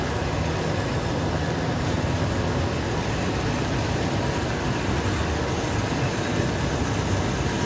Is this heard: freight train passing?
yes